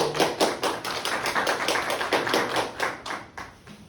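At a railway type-approval seminar, a small audience welcomes a guest speaker with brisk, rhythmic clapping, a steady run of sharp, close hand claps lasting a few seconds.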